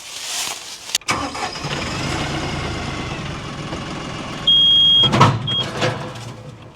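An LS tractor engine restarting after stalling: a brief cranking burst, then the diesel catches and settles into a steady, close idle, with a short high beep and a clatter near the end.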